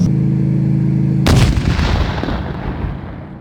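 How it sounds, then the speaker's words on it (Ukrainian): A loud, sudden anti-tank mine explosion hits after a steady low engine drone, followed by a long rumbling, crackling decay as debris settles. "А так вибухають протитанкові міни."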